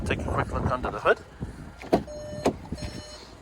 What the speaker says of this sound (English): It's barking at me because, attention, the engine is running, it says.